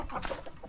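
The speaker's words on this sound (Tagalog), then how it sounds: "Daming manok oh. Daming chicken." Chickens on a Filipino farm: a quick burst of a few soft clucks, close by and fairly faint, lasting well under a second.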